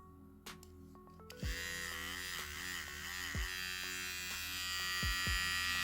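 A home-use electric hair trimmer switches on after a couple of clicks and runs with a steady close buzzing hum, its pitch wavering slightly as it is handled, no talking.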